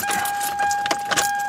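An aftermarket key rattles and clicks as it turns in the ignition of a 1999 Toyota Corolla 1.8, giving a short, close run of metallic jingles and sharp ticks with no talking.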